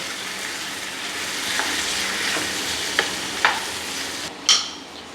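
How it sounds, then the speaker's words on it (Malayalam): Chicken being stirred into sautéed onions in a pan for a chicken stew: a steady low sizzle with a few sharp scraping clinks of the spoon against the pan, the loudest near the end, and no voices. "ഇനിയിപ്പോൾ നമുക്ക് ചിക്കൻ അങ്ങോട്ട് ആഡ് ചെയ്ത് കൊടുക്കാം കേട്ടോ. നന്നായിട്ട് മിക്സ് ചെയ്ത് കൊടുക്കാം."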